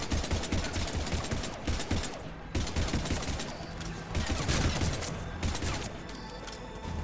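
Rapid pistol shots crack out in bursts across a Mass Effect 3 firefight, dense overlapping gunfire continuing throughout at close range with no pauses.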